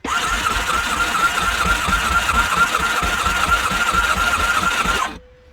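A 2011 Yamaha AR210 boat engine cranks over during a compression test, a loud, close, rapid rhythmic churning that holds steady for about five seconds before stopping abruptly.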